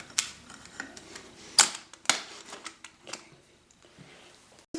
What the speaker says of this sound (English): Just remove the spring form.